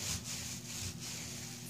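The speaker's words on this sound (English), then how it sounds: "I'm just going to rub probably for 5 or maybe 10 minutes, just rubbing, getting all of the fiber locked down" Hands rub wool fiber locks for wet felting, making a soft, steady rhythmic rubbing and swishing with repeated strokes, close and quiet.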